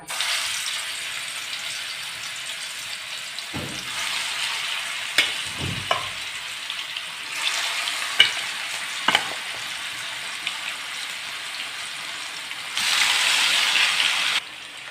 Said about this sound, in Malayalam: ഇനി അതിലേക്ക് ചിക്കൻ ചേർത്ത് കൊടുത്ത് നമുക്ക് നന്നായിട്ടൊന്ന് ഫ്രൈ ചെയ്തെടുക്കാം